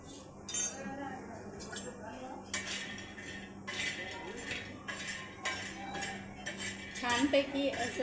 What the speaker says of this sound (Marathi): छानपैकी असं आपल्याला हे शेंगदाणे भाजून घ्यायचे आहे।